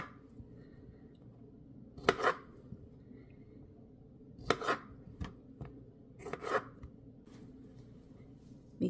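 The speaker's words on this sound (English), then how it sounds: "take each cherry and slice it right in half" A kitchen knife slices cherries in half on a cutting board, giving a few quiet, crisp cuts spaced a couple of seconds apart against a hushed background.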